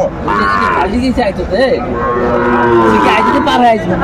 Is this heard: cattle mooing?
yes